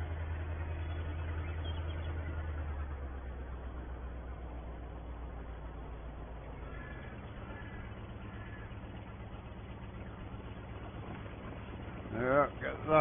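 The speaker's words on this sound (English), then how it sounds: "Our old boy sitting on his tractor here." Old farm tractor engine idling at an autumn barley harvest, a steady low rumble throughout, with a voice talking over it near the end.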